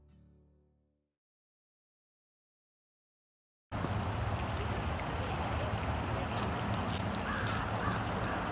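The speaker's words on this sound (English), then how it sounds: "Hello, bird friend." After a quiet opening and a stretch of silence, a crow caws a few times over loud, steady road or wind noise.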